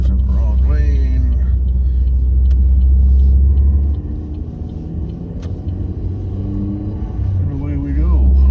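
A car engine pulls through second gear in everyday commuter traffic, a steady loud rumble rising in pitch near the start and again near the end, with a speaking voice over it.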